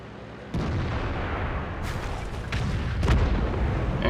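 Tank cannon fire from an IS-3 battle in World of Tanks, a few heavy booming shots with broadband bursts around one and three seconds over a dense, rumbling battlefield background.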